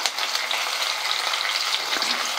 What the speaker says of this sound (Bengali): এবার এই মশলাগুলো আর কাঁচা ছোলাটা হালকা হাতে একটু ভাজা করে নিচ্ছি